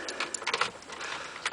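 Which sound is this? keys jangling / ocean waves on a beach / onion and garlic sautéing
keys jangling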